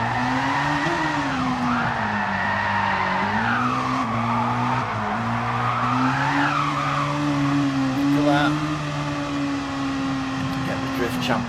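Classic DTM racing cars drifting at Trial Mountain Circuit in a racing game, with sustained tire squeal that wavers up and down over a steady engine drone, and a voice commenting over it.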